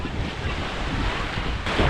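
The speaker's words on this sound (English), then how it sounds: "It's wavy out here" Choppy waves on Lake Superior along the North Shore, a steady broad wash of surf with wind buffeting the microphone throughout, no talk.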